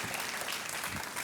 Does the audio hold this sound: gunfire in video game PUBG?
no